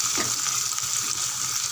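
Onion and curry leaves frying in hot oil as a tempering for sambar, a steady close hiss with faint water-like crackle running through the short stretch, no voices.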